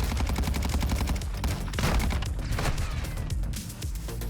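Dense automatic gunfire from a default battle pass weapon in Call of Duty MW2, a loud, continuous rattle of rapid shots that stays close and intense throughout, with no speech over it.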